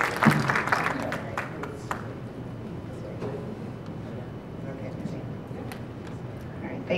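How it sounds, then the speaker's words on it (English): Audience clapping after a presenter at a community education session, a brief burst of applause at the start that quickly fades into a quieter room. "round of applause for Rachel"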